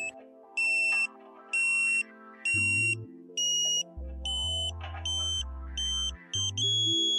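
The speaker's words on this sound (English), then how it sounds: "The continuous tone at this point does not indicate maximum signal level." Sharp electronic beeps from a satellite dish alignment meter repeat in a fast, uneven rhythm over a shifting buzzy tone, close and loud, with no voices.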